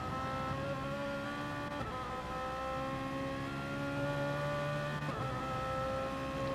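RC BMW touring cars lap a long track at Kyoto Driving Park during a race final, giving a faint, distant, continuous motor whine that shifts in pitch as the cars brake and accelerate through turns.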